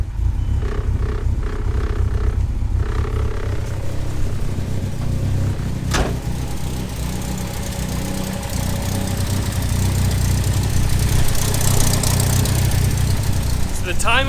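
A Nissan 240SX engine with unset timing and an unprogrammed ECU idling with a low, uneven lope, close and steady throughout, with a few sharp clanks and brief beeping on top.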